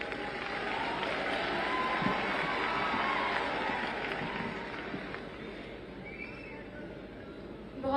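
Audience applause and crowd noise greet a poet walking onto a stage at a Hindi poetry gathering, a broad steady clapping wash that slowly thins toward the end.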